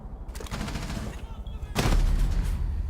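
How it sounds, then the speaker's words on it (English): Bursts of rapid automatic gunfire ring out in a competitive Rainbow Six Siege tournament match, loud and sustained, with a heavier, louder volley near the end and faint commentary underneath. "Shoot at that ballistic shield of Montagna, but he will not be able to damage him, as that is really bulletproof"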